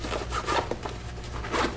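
Rough, scratchy rubbing and zipping bursts, close up, several pulls in quick succession as the zippers of a Maxpedition Jumbo Versipak bag are worked open.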